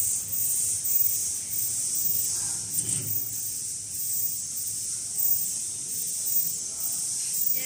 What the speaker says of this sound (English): The other 2 ultrasonic generators are here to drive the gear load welding mechanism.